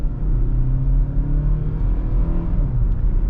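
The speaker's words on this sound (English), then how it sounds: "if we go into sport mode, this is not a fast car, but let's get up and go just a little bit." A 2025 Hyundai Tucson Limited accelerates in sport mode, its engine building in a steady rising rumble with a faint whir, heard from inside the cabin without any talking.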